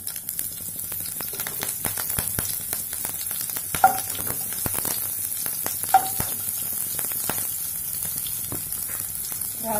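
Red chillies sizzling in hot mustard oil, a steady close crackling fry with a couple of brighter pops and clicks along the way.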